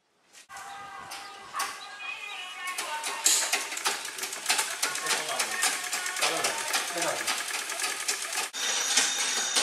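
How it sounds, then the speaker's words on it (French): Non-electric, treadle-style sewing machines running in a village, a busy, continuous mechanical clatter of rapid ticking stitches at close range, with a voice talking over the machinery. "les machines à coudre qui fonctionnent sans électricité"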